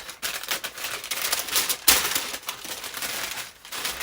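Paper crinkles and rustles close up as it is unwrapped from a Sacai sneaker box, with irregular crackling bursts and one sharp tearing rustle partway through.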